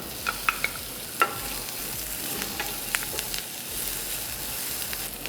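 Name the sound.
curry leaves and onion sizzling in hot oil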